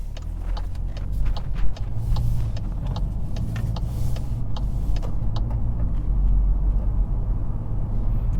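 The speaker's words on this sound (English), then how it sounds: "behind the wheel of the Volkswagen Golf R, the Mark 8 version. Now we are starting out in its comfort setting" Volkswagen Golf R Mk8 with DSG gearbox driving in comfort setting: a steady low engine and road rumble from inside the cabin, even and continuous, with faint clicks and no talking.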